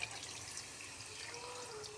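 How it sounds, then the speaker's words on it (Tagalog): Water runs steadily into a cooking pot of pork leg with mung beans, a continuous splashing trickle with a hollow ring, close by and fairly quiet, with no voices. "Lagyan natin ng tubig hanggang sa lumambot."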